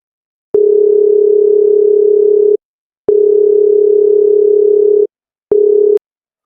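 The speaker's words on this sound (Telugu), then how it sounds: "వాళ్ళ ఫ్రెండ్స్కి ఫోన్ చేద్దాం." A steady electronic ringback tone sounds on an outgoing phone call, two long even rings separated by a pause and then a short third ring starting, with no voices.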